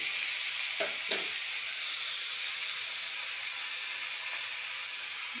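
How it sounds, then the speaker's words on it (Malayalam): Beetroot with chili powder sizzles softly in a pan while being stirred, a faint steady hiss with a couple of brief scraping knocks near the start, no talking. "ബീട്രൂട്ട് ഇട്ട ശേഷം നന്നായി യോജിപ്പിക്കുക"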